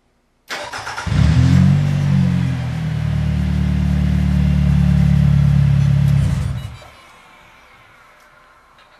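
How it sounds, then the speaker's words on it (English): A car engine remote started: a brief whirring crank, then the engine catches and settles into a loud, steady, close idle rumble for about five seconds before cutting off, with no talking. "Going to go ahead and remote start the vehicle."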